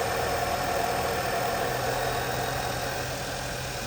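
A vehicle engine idling steadily up close, a continuous dense rumble with a faint knock-like texture throughout and no talking.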